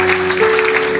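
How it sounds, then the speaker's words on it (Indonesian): A church congregation claps together in a loud, dense burst of applause, an even wash of many hands with a faint sustained tone underneath. "Kasih tepuk tangan untuk Tuhan."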